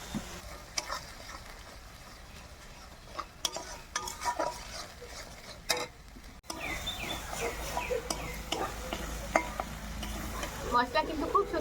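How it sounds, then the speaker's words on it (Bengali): Spice paste with salt and turmeric frying in a pan while being stirred, with scraping and clinking utensil strikes at first, then a louder, denser sizzle with crackles after a sharp shift midway. "পরিমাণ মতো লবণ আর হলুদ দিয়ে মশলাটা আগে খুব ভালো করে কষিয়ে নেব।"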